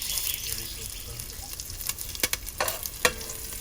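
Curry leaves dropped into hot oil while making sambar, a steady frying sizzle with sharp crackling bursts and spatters toward the end, close and moderately loud.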